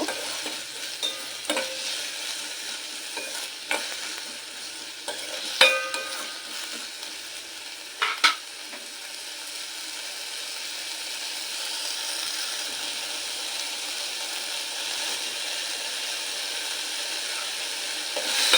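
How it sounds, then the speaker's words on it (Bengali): Potatoes, carrots and tomatoes fry in a pan with a continuous sizzle while a utensil stirs them, bringing periodic scrapes and clacks against the pan, loud and close throughout. "তো এক মিনিট মতো নেড়ে নিয়েছি ভালো করে"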